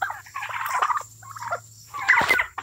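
A big blue slate turkey gobbler, about a year and a half old, gobbles in loud rattling bursts, close by, with a low hum underneath and a final sharp, harsh outburst.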